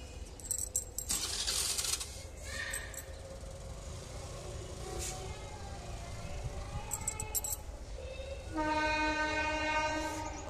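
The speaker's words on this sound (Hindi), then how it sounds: "अब वो जा रही है 7:45 वाली ट्रेन कालिंद्री।" Kalindi Express passenger train passing nearby, with a steady heavy rumble and clatter of wagons throughout and a loud sustained horn blast near the end.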